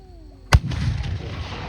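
A single loud cannon-like gun blast at an 18th-century reenactment festival booms out, followed by a rumbling echo that rolls away across open ground.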